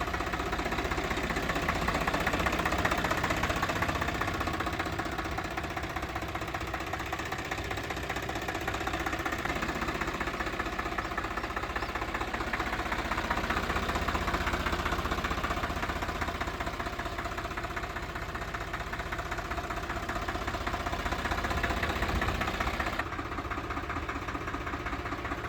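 A 2024 Mahindra Yuvo Tech+ 575 DI tractor engine idles with a steady, continuous diesel rumble and faint knocking, loud and close, without a break and with no talking.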